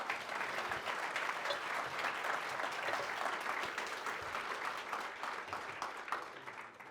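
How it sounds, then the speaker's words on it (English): A conference audience gives a sustained round of dense, even applause in an indoor hall, moderately distant and holding steady before tapering off at the end. "please give them all a round of applause"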